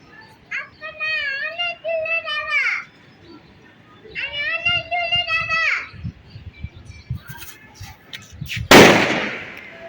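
A toy artillery piece fires once during a children's war game, a sharp, loud burst near the end after stretches of a child's high chatter and an adult voice.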